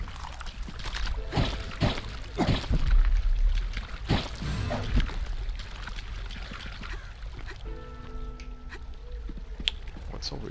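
Water pouring and trickling in the video game Vigil: The Longest Night, a steady splashing flow heard close, with game sounds layered over it and a faint tonal hum near the end.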